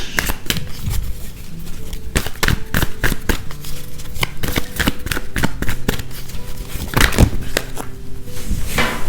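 Tarot cards shuffled by hand in dense, rapid riffling and slapping bursts, close and loud throughout with no talk.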